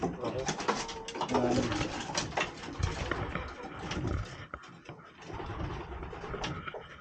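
Racing pigeons cooing in a loft, a steady layered burble of many birds close by, with someone talking over them throughout.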